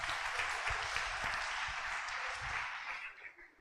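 Strong applause from a church congregation fills the space, a dense wash of clapping that holds steady for several seconds before tapering off at the end.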